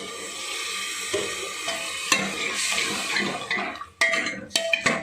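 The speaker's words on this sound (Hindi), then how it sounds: "घुमा के थोड़ा पानी डाल के" Water splashes and sizzles into a hot pan of cumin while cooking soybean chunks, a hissing frying sound with clinks and stirring scrapes toward the end.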